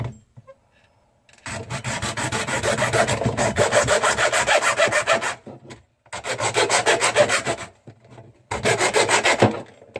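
Handsaw hacking an inch off a 12-inch drain pipe during a garbage disposal install, loud close rasping strokes in three bursts separated by short pauses, no talk.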